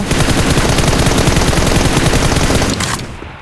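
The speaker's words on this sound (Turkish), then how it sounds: "Tamam sağdakine birkaç tane vurdum." Continuous rapid automatic gunfire in PUBG Mobile, loud and close, a dense stream of shots for about three seconds before cutting off.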